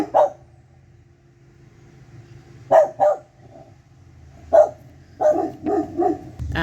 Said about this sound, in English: My dogs were barking their heads off while I was doing this